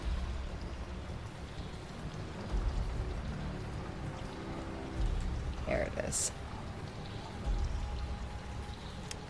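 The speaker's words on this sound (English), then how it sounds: "A loud waterfall pours into this mossy cavern." Loud, steady waterfall pouring into a mossy cavern beside an underground lake, a continuous rushing wash of falling water with a brief voice speaking over it partway through.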